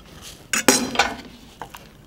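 A utensil stirs chive-finished sauce in a pan, giving a few sharp metallic clinks and scrapes in quick succession, then a couple of lighter taps, close and fairly loud with no talking.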